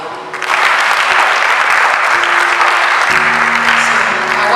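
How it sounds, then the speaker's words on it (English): Loud, sustained applause from a conference audience at a values-for-daily-living international annual conference, dense clapping swelling in quickly and holding steady throughout, with faint voices underneath. "Can you clap for them?"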